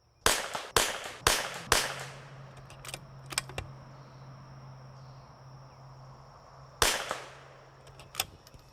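A CZ 455 rifle fires a group of five shots outdoors: four sharp cracks in quick succession, then a pause and a final crack, with faint mechanical clicks in between and insects chirping in the background.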